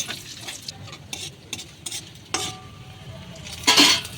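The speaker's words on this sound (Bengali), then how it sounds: "তেজপাতা, শুকনো লঙ্কা, দারচিনি, 2টো এলাচ আর জিরে, কালো জিরে ফোড়ন। এবার একটু ভালো করে ভেজে নেব।" Whole spices tempering in hot oil for a potol chingri curry: bay leaf, dried chilli, cinnamon, cardamom and cumin, a soft steady sizzle broken by a few light stirring scrapes and a louder clatter near the end, with no talk.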